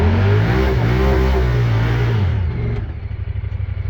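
Engine of a 2022 Pioneer 1000 side-by-side revs under throttle, a loud close drone with rising and falling pitch sweeps that eases into a rougher idle-like clatter near the end.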